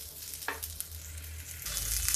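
Pointed gourd (parwal) frying in a pan with a steady close sizzle and a few stirring scrapes, no voices.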